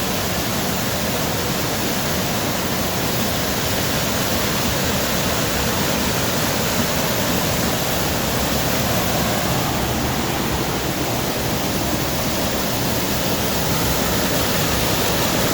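The Sitovo waterfall pours in a loud, steady roar of rushing water that fills the whole stretch without a break and sounds close by, with no voices.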